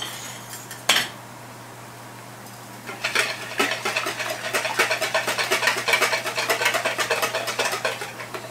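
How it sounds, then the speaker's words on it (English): Two eggs whisked in a bowl for onion spoon bread, a rapid run of clinking strokes starting after a single knock, steady and close with no talk. "I've got my two eggs in here, and I'm going to whisk them a little bit"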